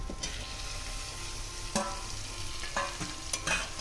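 Rice and spices being sautéed in a pan with fried pointed gourd and potato, a low steady sizzle broken by a few sharp scraping stirs of the spatula.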